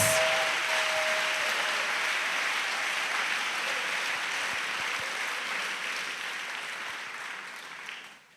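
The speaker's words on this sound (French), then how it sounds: "Clap for Jesus." A congregation at a church worship service applauds for Jesus in a continuous, dense wash of clapping that holds steady for several seconds before gradually tapering off.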